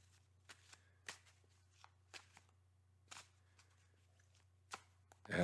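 Tarot cards being shuffled by hand in a quiet room: soft, irregular riffling and sliding clicks in short bursts, fairly faint over a low steady hum, with a louder rustle at the very end.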